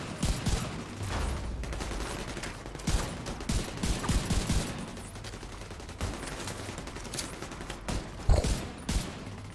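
Rapid bursts of gunfire in The Division 2: Warlords of New York, repeated shots and fusillades crackling loudly in irregular clusters over a dense combat background.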